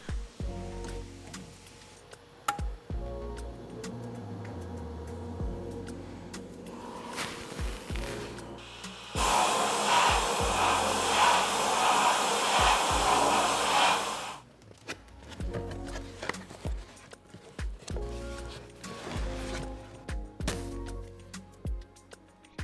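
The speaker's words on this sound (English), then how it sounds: "we can just use a small blast cabinet to do the work" Small blast cabinet stripping old paint off hammered copper lighting fixtures: a loud, even, hissing roar for about five seconds mid-clip, framed by quieter clunks and knocks of handling before and after.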